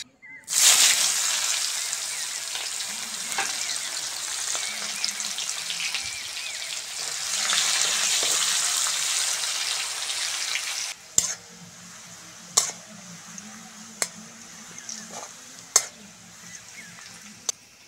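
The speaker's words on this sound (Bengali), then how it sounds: "ওই তেলের মধ্যে অল্প পেঁয়াজ দিয়ে ভেজে নেব" Onions frying in hot oil for egg biryani, a loud continuous sizzle for about ten seconds that then drops to a softer crackle broken by sharp clicks and scrapes of a utensil against the pan.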